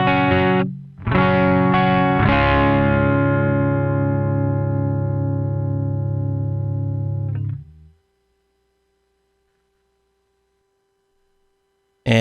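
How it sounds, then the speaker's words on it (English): Electric guitar through a SansAmp pedal with a little reverb added: three chord strikes in the first two seconds, then a long, even sustain that fades out around eight seconds, followed by near silence. "In fact, I'll add a little bit of reverb just so."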